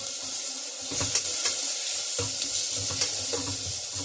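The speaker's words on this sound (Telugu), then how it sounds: "వేసి బాగా ఫ్రై చేయండి. కొంచెం పచ్చివాసన పోయే వరకు ఫ్రై చేసుకోవాలి." Spices and aromatics fry in a pan for sorakaya pesara pappu curry, a loud bright sizzle with intermittent stirring bursts and scrapes up close.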